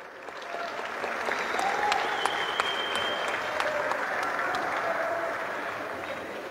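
Steady, dense clapping from an audience at a women's volleyball mega-event awards ceremony, continuous for several seconds with a few sharper individual claps standing out.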